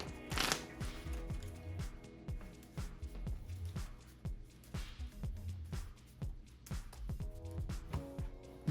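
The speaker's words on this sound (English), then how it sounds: "Shuffle my deck." A deck of Pokemon trading cards is riffled and shuffled by hand at a tabletop game, a steady run of crisp, close card flicks and snaps repeating for several seconds without talk.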